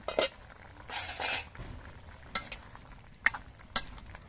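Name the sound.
stirring bottle gourd curry in a pan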